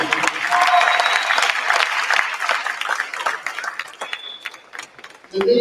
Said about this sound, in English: Let's give them a big round of applause for these four athletes.